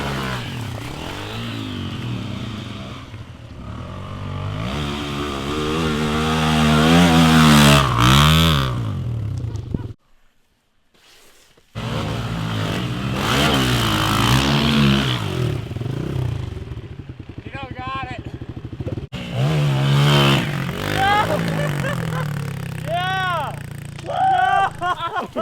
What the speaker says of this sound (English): Who needs a race bike when you got off-road trail bikes?